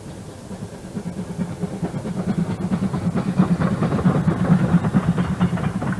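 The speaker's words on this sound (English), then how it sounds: "The combination of fine mountain scenery and steam locomotion demonstrates its universal appeal." A Japanese steam locomotive, a C11 class tank engine, works through mountain country, its rhythmic chuffing exhaust beats growing steadily louder and faster as it approaches, with no voices.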